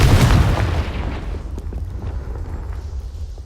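A Confringo fire spell explodes in Hogwarts Legacy with a loud, deep boom that swells at once, then rumbles away into a long, low tail over steady background hum.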